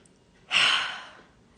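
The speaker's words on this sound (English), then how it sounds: "Deep breath in." A single deep breath drawn in close to the microphone, a smooth airy inhale swelling quickly and fading over about a second, with no talk.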